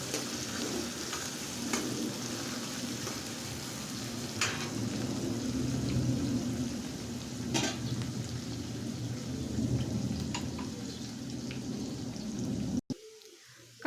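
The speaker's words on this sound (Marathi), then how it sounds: "कांदा थोडासा हलकासा लाल कलर येईपर्यंत भाजायचा" Chopped onion frying in a pan for a Maharashtrian bhogi vegetable dish, a steady dense sizzle with a few sharper crackles, close and continuous until it cuts off near the end.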